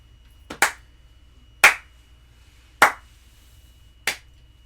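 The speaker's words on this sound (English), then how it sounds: "Are y'all gonna clap with me?" A single person claps four slow, separate times at the end of a classroom history lesson, each clap sharp and close with long gaps between.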